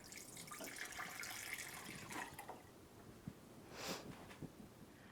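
Steeped fireweed blossom liquid poured into a jar, a soft close trickle and splash of liquid with a brief gush near the end, quiet and without speech.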